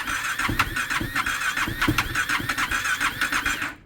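A KTM motorcycle engine with its original exhaust cranks and catches, running with a rough, uneven mechanical chatter and occasional squeals before cutting off abruptly at the end.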